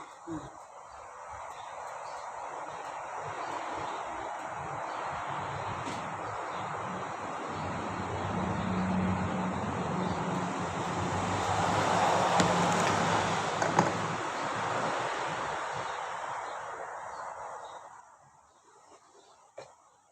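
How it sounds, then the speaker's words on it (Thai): Strong wind blows outdoors for a long stretch, a steady broadband rushing and rustling that swells toward the middle and dies down near the end, with faint bumps and knocks underneath. "ลมแรงมากเลยวันนี้ลมทั้งวันเลย"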